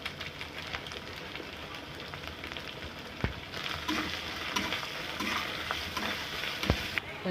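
Ground garlic paste, cumin powder and spices fry in a pan for a prawn curry, giving a continuous soft sizzle with a few stirring scrapes and brief clicks. The sizzle is moderately close and plays alone, with no talk.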